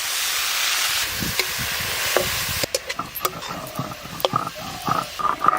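Leafy greens (shak) frying in a pan, a loud steady sizzle and hiss at first, then rhythmic scraping and stirring strokes with crackling as the leaves are turned.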